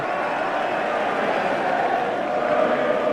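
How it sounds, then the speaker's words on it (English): A large rugby stadium crowd at an England versus New Zealand test match in 1993 stands and applauds, a dense, steady roar of clapping and cheering that holds at a loud level throughout. "The crowd stand to applaud the heroes, led by Will Carling"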